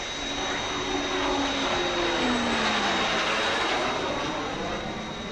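The Fireflash jet aircraft roars steadily on its approach, a loud, continuous broadband engine rush with a faintly falling tone layered through it.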